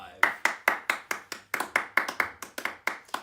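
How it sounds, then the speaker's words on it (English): Podcast hosts clap for themselves in a quick run of about fifteen sharp, close claps at an even, brisk rhythm, a small hand-clap sound with no talking over it. "That was us giving ourselves a round of applause for finally not being lazy."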